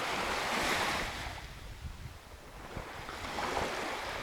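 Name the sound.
wind blowing on the coast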